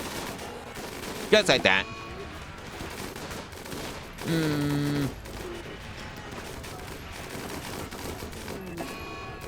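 Defensive turrets fire in a Rimworld battle against mechanoids, a short burst of rapid shots followed later by a sustained electronic tone, with a voice talking over the action.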